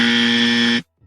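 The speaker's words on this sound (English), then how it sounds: "Dummy buzzer for these idiots." A single loud, harsh electronic buzz lasts under a second, then cuts off abruptly into silence.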